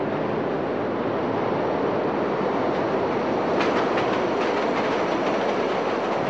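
A train rolls through a rail yard with a loud, constant rumbling rattle close by, and faint rhythmic wheel clicks rise briefly midway.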